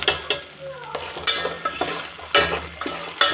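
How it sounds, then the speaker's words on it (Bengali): Green peas being stirred and fried in a pan for jeera rice, a steady close sizzle with repeated scraping strokes of a spoon against the pan. "মানে মটরশুঁটিগুলো একটু ভেজে নেবো আর কি এর সাথে।"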